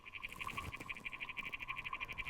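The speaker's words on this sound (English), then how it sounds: "what we're listening to are the sounds of the water boatman" Water boatman, a small underwater bug, stridulating: a rapid, steady train of bright buzzing chirps pulsing evenly throughout, close and moderately loud over a faint watery background.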